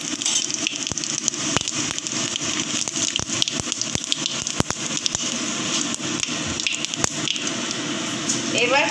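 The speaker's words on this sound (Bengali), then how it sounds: "এবার গোটা জিরে ফোড়ন দিয়ে দেবো।" Whole cumin seeds crackle and sizzle in hot oil in a pan while fish curry is cooked, giving a steady close spitting hiss with sharp pops.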